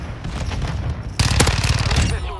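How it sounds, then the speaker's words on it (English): Gunfire in a Modern Warfare 2 match: steady rattling shots give way to a sudden louder, harsher burst of close fire that keeps pounding rhythmically before easing off. "A shotgun shot right to the face."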